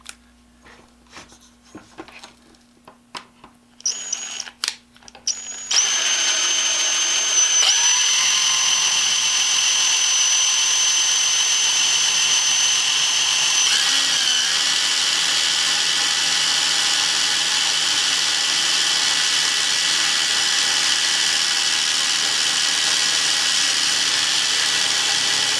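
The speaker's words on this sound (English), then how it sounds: "drill on through into the hollow of the handle, then start the screw." A power drill bores through a hollow Swiffer mop handle, a steady high whine running continuously after a few short trigger bursts, close and loud with no talk.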